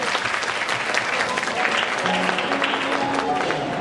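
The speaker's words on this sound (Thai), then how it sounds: "ขอเสียงปรบมือต้อนรับ" Steady applause from a studio audience fills the whole stretch, dense and even, with no break in the clapping.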